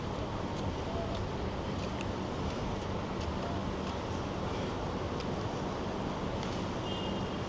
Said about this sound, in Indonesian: Dan windy guys, lumayan berangin.